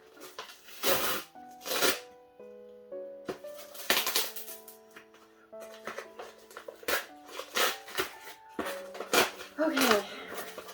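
A cardboard shipping package of manga is pried open at the front flap in a run of crisp rustling and tearing bursts, close by, over a soft sustained tonal background.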